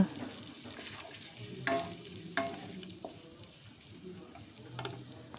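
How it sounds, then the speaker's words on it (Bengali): Spices and chopped onion are stirred and fried in fish oil in a pan, with a steady sizzle and a few sharp scrapes and knocks of the spoon against the pan. "এখন সমস্ত উপকরণগুলো একটু নাড়াচাড়া করে বেশ ভালো করে একটু লাল করে ভেজে নিচ্ছি"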